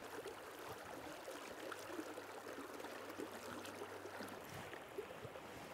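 The River Wharfe in the Yorkshire Dales runs high after rain, giving a steady, close rushing of flowing water with no voices over it.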